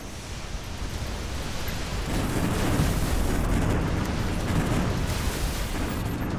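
Rocket blasts in the mech shooter Galahad 3093 form a continuous rumbling, roaring barrage of explosions, dense and loud throughout, with no voices.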